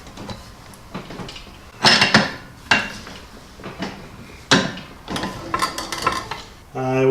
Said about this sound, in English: Should be able to mash it back flat in this vise